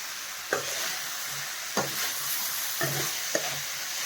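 Bitter gourd pieces fry in a pan, stirred in several distinct scraping strokes over a steady close sizzle with no voices.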